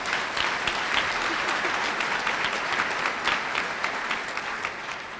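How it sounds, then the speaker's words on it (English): Audience applause at a College of Dentistry commencement ceremony, a dense, steady clapping from a large crowd filling the hall, sustained throughout and easing slightly at the end. "So if I could get a little round of applause."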